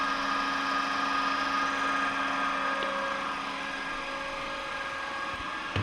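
A DC shunt motor runs during a brake test, giving a steady, continuous electrical hum and whine at even loudness for the whole stretch.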